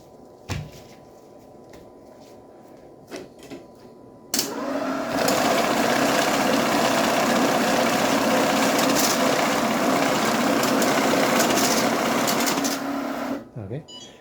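A Kisan K5 banknote sorter runs steadily for about nine seconds, sorting 1, 5, 10, 20, 50 and 100 bills with a dense whirring, fluttering rush of paper, preceded by a few clicks and brief talk before it starts.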